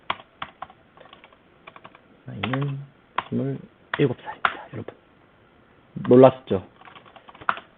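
Someone types on a computer keyboard while showing Python pandas data preprocessing, giving short bursts of light key clicks between stretches of a man's close speech.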